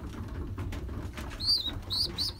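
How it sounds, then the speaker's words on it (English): Young wild check pigeons in a loft, giving soft low murmuring coos over a muffled background, with a couple of brief higher squeaky calls near the end. "These are of the best young birds from last year"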